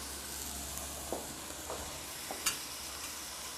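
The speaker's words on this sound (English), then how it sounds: "Stephanie, will you just stir this for me?" A tempeh and broccoli sauté being stirred in a pan after a splash of broth: a soft steady sizzle with a few gentle scrapes and knocks of the spoon, close and quiet.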